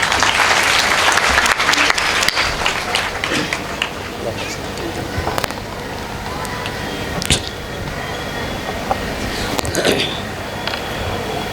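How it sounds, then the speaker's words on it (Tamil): An audience at a temple consecration debate event applauds loudly, a dense burst of clapping that thins and fades into scattered claps, with voices underneath. "நல்ல ஒரு கைத்தட்டு கொடுங்க"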